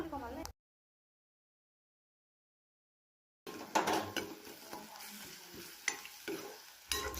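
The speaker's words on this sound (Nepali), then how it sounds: "प्याज र यो काटेको खुर्सानीलाई चाहिँ मजाले स्टर फ्राई गर्नेछौँ।" Onion and chopped chillies stir-fried in a pan, a short burst of scraping, then a gap of silence before close sizzling and repeated spatula scrapes and clinks resume.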